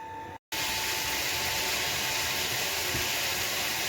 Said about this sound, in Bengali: তাহলে আমি আলুটা ভেজে ফেলি